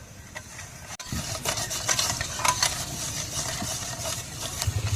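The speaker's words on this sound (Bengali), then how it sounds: "তেল দেওয়া হয়ে গেছে, এবার ভালো করে মিশিয়ে নেব" Sugar and rapeseed oil being stirred together by hand in a bowl for a Bengali-style cake batter, a steady close scraping and swishing that runs continuously for the whole stretch with no voices.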